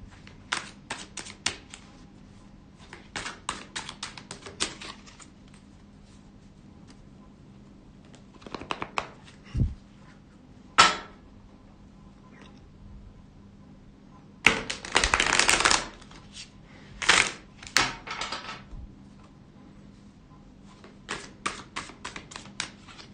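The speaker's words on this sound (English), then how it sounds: "so let's now shuffle the deck and construct the piles" Tarot cards are shuffled in bursts of rapid riffling and flicking, with sharp taps and pauses between rounds, close up and without talk.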